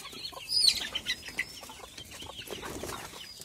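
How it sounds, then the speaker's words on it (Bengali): Chickens and chicks near their coop cluck and peep in short scattered bursts, with a brief wing flutter, close by and fairly quiet. "তো আমাকে আসতে দেখে মুরগির ছানাগুলো অলরেডি ঘরে ঢুকে পড়েছে।"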